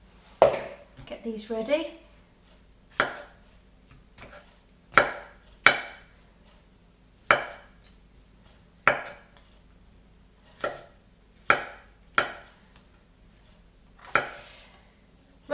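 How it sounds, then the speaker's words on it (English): A knife roughly chops mushrooms on a board in a home kitchen: about a dozen sharp, distinct knocks at uneven intervals, close and clear, with a short burst of quick cuts near the start and brief talk. "I'm going to chop our mushrooms, just roughly."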